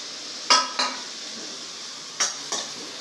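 A metal spoon scrapes and clinks against a frying pan as green chillies and onions are stirred in. Four short clanks come in two pairs over a steady low sizzle, close by.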